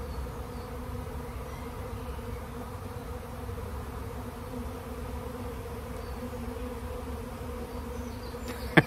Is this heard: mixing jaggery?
no